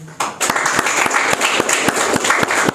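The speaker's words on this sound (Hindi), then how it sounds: "तो क्यों ना इस समय हम अपने आप के लिए ताली बजा सकते हैं" A church congregation at a Sunday evening service claps together in a sustained round of applause, with rhythmic sharp claps that swell after a brief quiet start and carry on steadily to the end.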